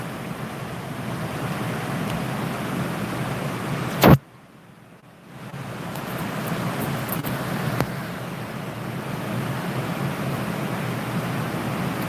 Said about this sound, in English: It is raining very heavily. It is loud out there.